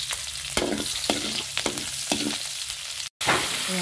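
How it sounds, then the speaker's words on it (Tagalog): Garlic and onion sautéing in oil in a pan for pork isaw dinuguan, a steady sizzle broken by several sharp stirring scrapes, close and continuous. "At magigisa na tayo ng bawang at sibuyas."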